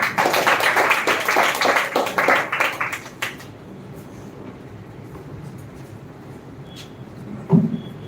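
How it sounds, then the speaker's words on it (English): An audience at an English speech competition applauds for about three seconds, then the clapping stops and a quiet room follows with a faint knock. "Clap for him."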